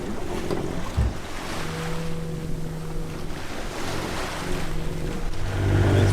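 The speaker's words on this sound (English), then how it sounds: "Shallow bars, meaning big waves." A sailboat rolls through big waves over shallow coastal bars on a rough night, with steady wind and water rush, a dull thump near the start and a low engine-like hum throughout.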